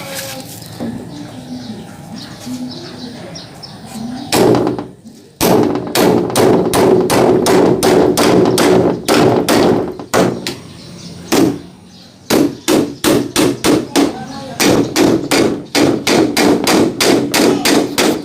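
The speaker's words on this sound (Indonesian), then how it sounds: "Saatnya kita paku ini guys." Nails hammered into a wooden door under construction, loud sharp hits in rapid regular runs with short pauses between sets, close by, with faint background sounds early on.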